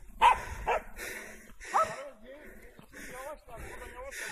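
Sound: dogs barking

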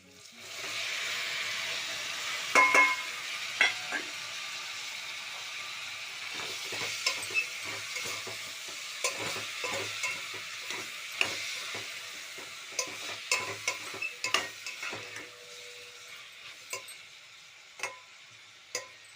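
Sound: tomatoes added to a frying pan for egg curry

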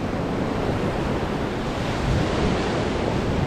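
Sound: big ocean waves on the beach

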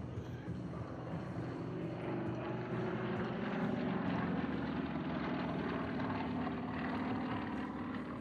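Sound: Sukhoi SU-26 aerobatic aircraft flying a demo

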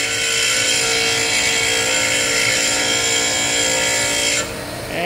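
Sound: grinding HSS lathe bits on a grinder

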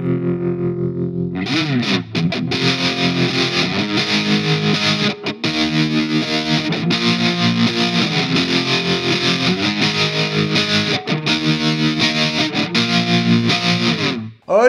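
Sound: Mooer smart guitar with effects playing intro

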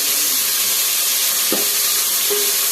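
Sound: mint, curry leaves, onions, chillies, garam masala frying in oil

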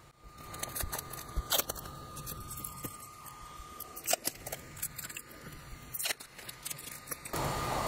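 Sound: taping three test tubes shut with tape

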